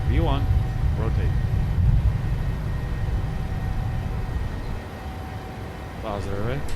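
Airbus A380 taking off in a flight simulator game, a low steady engine roar under talk throughout, with a voice speaking over it at the start and again near the end.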